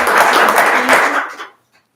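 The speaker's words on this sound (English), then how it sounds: "So if we could give John a round of applause." Short burst of applause for an honoree at a school board of education meeting, clapping from a small room of people for about a second and a half before stopping abruptly.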